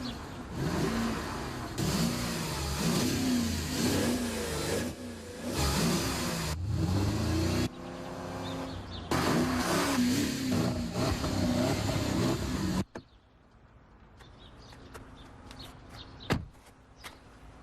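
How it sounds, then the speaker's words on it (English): A 450 horsepower Porsche Cayenne Turbo revs loudly up close in repeated bursts for about thirteen seconds, then cuts out, leaving faint background noise with a single sharp knock. "The 450 horsepower Porsche Cayenne Turbo."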